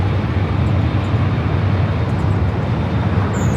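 An airliner on its takeoff roll at LAX produces a steady, broad jet roar with a low rumble, heard from a distance and unbroken for a few seconds.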